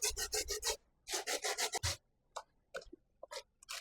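Sweet potato being grated by hand for a Jamaican pudding, in quick rasping strokes: a fast burst of scrapes, a short pause, a second fast run, then a few scattered lighter scrapes, close and fairly loud with no talking.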